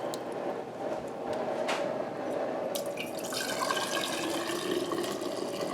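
Homemade beef bone broth is ladled out of an Instant Pot, with liquid sloshing, pouring and dripping close by in a continuous wet splashing that shifts in texture as it goes, and no talking.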